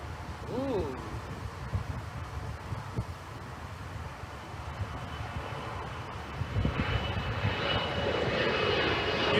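Aer Lingus airliner flying over an airport, its jet engine roar rising from a distant rumble to a louder wash as it nears, with wind buffeting the microphone.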